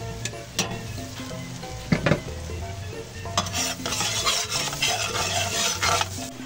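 Chopped onion sizzles in a hot pan, with a spoon scraping and stirring through it in irregular bursts while the pan sputters steadily underneath, close and moderately loud, with no talking.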